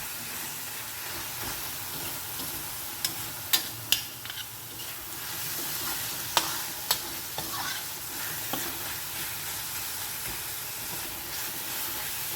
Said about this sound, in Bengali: সমস্ত উপকরণগুলো দিয়ে খুব ভালো করে মিশিয়ে নেব যতক্ষণ না পর্যন্ত পেঁয়াজ আর টমেটোটা নরম হয়ে যাচ্ছে।